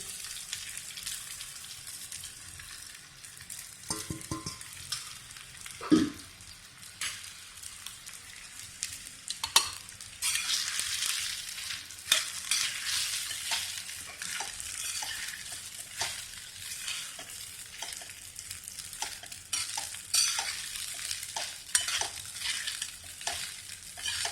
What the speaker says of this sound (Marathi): आता आपण साबुदाणा त्यामध्ये घालून देऊ.